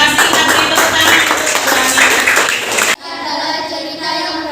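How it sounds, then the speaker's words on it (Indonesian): A classroom of students clap their hands together in a dense burst of applause for about three seconds, which then cuts off abruptly, leaving a quieter room. "Kasih tepuk tangan."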